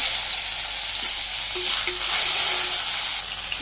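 Bay leaf, cumin seeds, fenugreek seeds and ginger sizzle steadily in hot oil while tempering dal in a Bangladeshi village kitchen, a continuous close hiss with faint stirring clinks and no voices.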